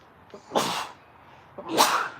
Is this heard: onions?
no